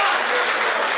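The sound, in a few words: audience applause at a Hindi comedy poetry gathering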